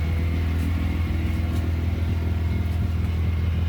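A car engine idles steadily at about 1200 RPM, a close, even low rumble with a smooth, unbroken rhythm and no voices; the engine has a suspected misfire.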